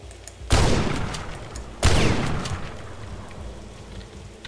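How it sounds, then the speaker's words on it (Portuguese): Two heavy video-game shotgun blasts in The Last Stand: Aftermath, about a second and a half apart, each ringing out with a long rumbling decay; no voices. "900 tiros de munição de shotgun"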